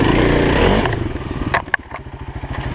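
A Kawasaki KLX 351 dirt bike rides a hilly trail through a ravine, its single-cylinder engine loud and close, revving then settling into a pulsing idle-like chug with a few clattering knocks.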